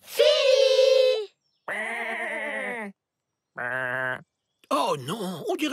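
Sheep bleat in three separate loud, wavering calls close by, each followed by a pause, and a voice follows at the end.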